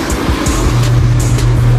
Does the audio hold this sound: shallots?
no